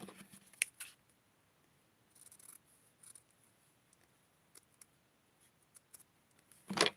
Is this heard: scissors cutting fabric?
yes